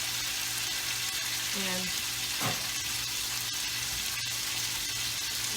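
Food frying in a lightly oiled pan gives a steady, close hiss and crackle throughout, with a brief stir and a short voiced word partway through.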